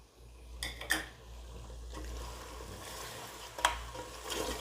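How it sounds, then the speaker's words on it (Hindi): Mutton frying with whole garam masala and spices in a pan, a soft sizzle under a couple of sharp stirring scrapes and clinks, fairly quiet and close. "हमने स्पाइसेस को और साबुत गरम मसाले को गोश्त के साथ भून लिया है।"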